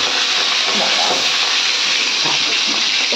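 Mixed vegetables tipped into hot oil tempered with cumin, dried chili and bay leaf give a steady, loud hissing sizzle that runs unbroken for the whole stretch.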